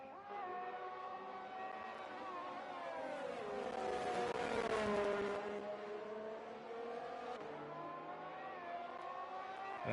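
A video game racing car engine whines at high pitch, swelling louder as it passes close and then fading away, steady and continuous.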